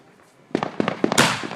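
Fireworks going off at a Fourth of July family celebration: a rapid string of sharp, loud bangs and crackles in quick succession, ending in a bright burst with a crackling tail.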